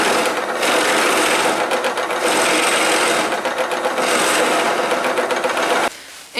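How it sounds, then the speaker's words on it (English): A drill press bores into wood with a Forstner bit, a loud, continuous whirring grind with slight rhythmic pulsing that stops abruptly near the end. "And for that I will be using some Forstner bits just to create a little area so I can have that flat."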